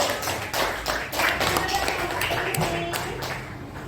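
A classroom of Indonesian students claps for a student group, a burst of dense, uneven hand claps from the room that holds steady for a few seconds with some voices mixed in.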